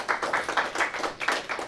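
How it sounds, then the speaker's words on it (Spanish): A church congregation claps together at a Spanish-language service, producing a short run of rhythmic, evenly spaced claps at moderate volume. "Den un aplauso fuerte al Señor."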